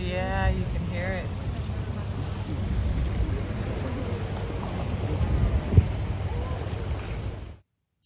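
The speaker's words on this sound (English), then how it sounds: "This is the boat going through the pack ice as we headed toward the North Pole." A ship's engine drones under steady wind noise while Arctic pack ice scrapes and cracks against the hull, with a brief voice near the start.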